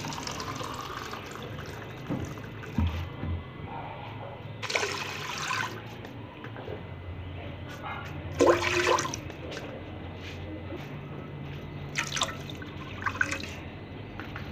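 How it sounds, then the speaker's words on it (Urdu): Water from three glasses poured into a cooking pot of washed lentils, a watery splash and gurgle in several bursts, close and moderately loud with quieter dripping between pours. "یہ 3 گلاس پانی ڈال دیا"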